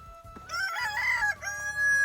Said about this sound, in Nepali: भाले बाँसिराख